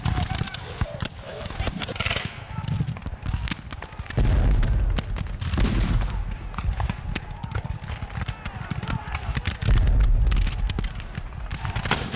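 Musket volley gunfire in a Civil War battle scene, loud cracking bursts fired in several waves over a shouted command and general battlefield noise.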